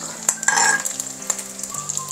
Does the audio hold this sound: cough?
no